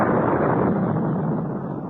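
A loud, sustained explosion rumbles through a dark observatory, staged as an audio-drama effect. It is a dense, broad roar that stays at full strength and then fades slightly toward the end, with no voices.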